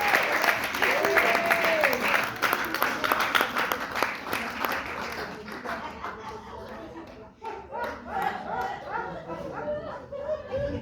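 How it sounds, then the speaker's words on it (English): Audience applause at a gathering, a dense burst of clapping that gradually thins out and fades, with a dog barking and yipping and voices talking underneath. "Guys, please give a round of applause"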